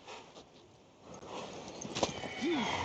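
Horse sounds from a mare in The Witcher 3 video game: hoof clip-clops amid ambient game noise, followed by a short rising-falling whinny near the end, moderately loud.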